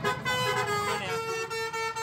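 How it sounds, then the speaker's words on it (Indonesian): A basuri bus horn plays a tuneful sequence of sustained, melodic tones, loud and close, with children's voices and street noise underneath. "saat sopir bus membunyikan klakson basuri"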